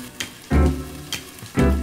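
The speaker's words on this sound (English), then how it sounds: "You need to start with frying cutlets." Burger cutlets fry in a pan with a steady sizzle, punctuated by a few louder bursts of spattering and crackling as the meat cooks.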